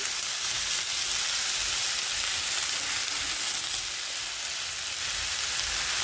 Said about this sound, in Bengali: এই যে এখন লতিটাকে পুরো লবণ হলুদ সব কিছু দিয়ে সুন্দর করে ভেজে নেব